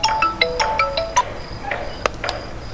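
A phone ringtone plays a quick run of bright electronic tones, then a few more scattered beeps, loud and close with no talk over it.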